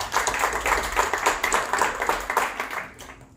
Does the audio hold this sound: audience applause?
yes